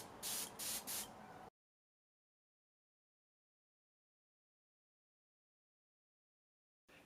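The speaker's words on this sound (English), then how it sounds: "I'm going to airbrush this piece of cotton as well" An airbrush sprays blue paint onto a piece of cotton fabric in three quick hissing bursts close by, then falls silent for several seconds before a brief hiss returns at the very end.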